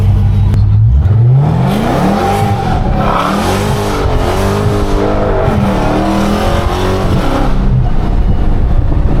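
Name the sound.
Dodge Hellcat car engine accelerating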